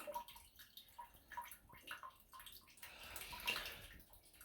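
Water splashes and trickles steadily from a water heater tank being drained, with gurgling bursts and a rushing surge near the end, fairly close with no talking.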